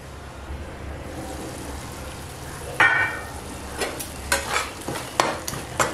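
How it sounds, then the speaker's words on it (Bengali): Spice masala and tomatoes cook in a covered pan with a low steady sizzle. Scrapes and clattering stirs then come in irregular bursts, close by. "এতে মশলাটাও খুব ভালো করে কষে যাবে আর টমেটোটাও গলে যাবে"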